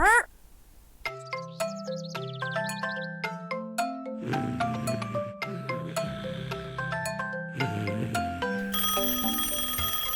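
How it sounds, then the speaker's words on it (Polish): A melodic cartoon doorbell chime sequence rings out in bright, bell-like tones, many notes in a lively run lasting several seconds, in a children's animated show. "Ktoś dzwoni!"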